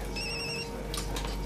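A phone rings with bright electronic trill tones over a steady low hum, brief and moderately loud, with no talking.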